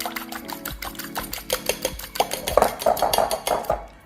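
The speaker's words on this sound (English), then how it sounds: "We're gonna crack 2 eggs and just beat those up." Two eggs are beaten in a bowl with a utensil, giving a rapid, steady run of close clicking and tapping strokes against the bowl that grows busier and louder toward the end.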